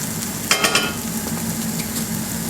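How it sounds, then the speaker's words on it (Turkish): Chicken simmers in a pot on a home stove, making a continuous bubbling hiss, with a brief cluster of clinks near the start from stirring. "Tavuğum kaynamaya başladı."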